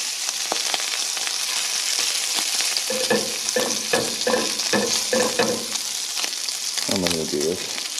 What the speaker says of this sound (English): Bacon will be done cooking here in a couple minutes.